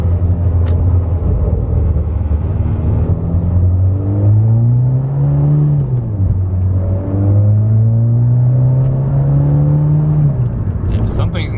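A turbocharged MK6 car with a big turbo and suspected limp-mode fault is floored, its engine droning loud and steady with rising and falling harmonics throughout, and a brief voice is faintly present.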